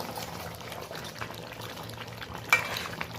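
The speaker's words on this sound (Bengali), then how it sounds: "ঢাকনাটা এক্ষুনি আমি খুলে নিয়েছি, খুলে নিয়ে একটু নাড়াচাড়া করে দিচ্ছি" A pot of thin country-chicken curry bubbling as it is stirred with the lid off, a low steady simmer with soft liquid movement and one clear scrape or knock, quiet and close with no voices.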